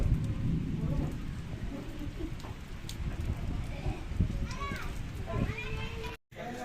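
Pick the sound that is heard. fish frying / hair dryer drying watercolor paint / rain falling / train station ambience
rain falling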